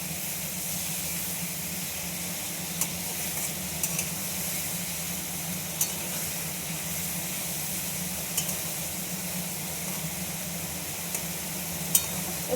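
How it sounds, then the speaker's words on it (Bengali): Raw onion frying together with prawns gives a steady, close hiss and sizzle, broken by light scattered clicks of stirring, running evenly with no voices. "দিয়ে চিংড়ি মাছটার সঙ্গে কাঁচা পেঁয়াজটা ভাজবো, একটু ভাজা ভাজা করে নেব"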